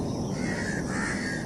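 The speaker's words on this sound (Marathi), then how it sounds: "ते कोंबडा कापायला जाणार इतक्यात त्यांना काही पक्ष्यांचा आवाज आला." Spotted owlets screeching, a steady harsh bird crying that fills the whole short stretch at close range, with no speech present.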